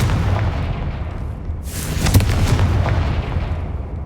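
A Confringo fire spell bursts in the Hogwarts Legacy video game, a loud booming explosion with a sharp crack and roaring rumble that swells midway and lingers over a dense rumbling background.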